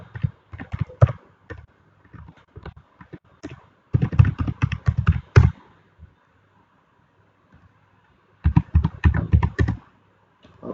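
Clicky computer keyboard keys tapped in quick bursts while an email address is typed, with short pauses between runs of keystrokes, close up and quiet otherwise.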